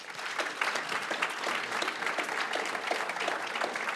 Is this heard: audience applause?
yes